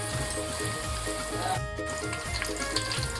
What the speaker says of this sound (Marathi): आता ह्याला छान कलर येईपर्यंत आपल्याला तेलामध्ये परतायचं.